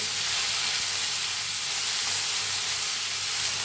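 Green chilies roasting in a hot pan give a steady, loud sizzling hiss that runs without a break, with no voices over it.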